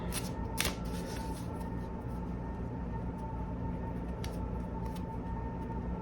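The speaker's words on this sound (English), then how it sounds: "I'm going to shuffle these really good" Tarot cards shuffled continuously for several seconds, a dense riffling patter with occasional snappier flicks, close up and alone over low background hum.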